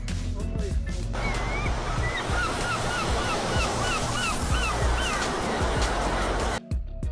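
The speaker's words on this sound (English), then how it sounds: "San Sebastian is known for its huge waves, but locals enjoy the spectacle despite the danger." Huge ocean waves crash at San Sebastian in a loud, steady surf roar, with honking goose-like bird calls above it and a short cut near the end.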